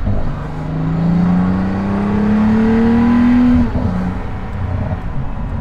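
A Pagani Huayra Roadster BC revs with its exhaust valves opened to a straight-piped sound, a loud close engine note climbing steadily in pitch before dropping off abruptly, then idling rough.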